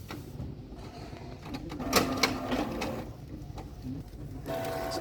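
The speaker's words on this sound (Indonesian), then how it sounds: "lalu langsung kita cetak ya" A printer running as it prints a document, a steady mechanical whirring and rumbling with faint clicks and a short tonal whine near the end, continuous and fairly close with no talking.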